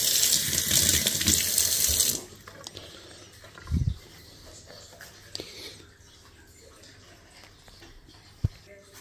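A tap pours water into a pot for cooking Spanish-style milkfish, a loud steady gush lasting about two seconds before it stops, followed by quiet kitchen clatter and a soft knock.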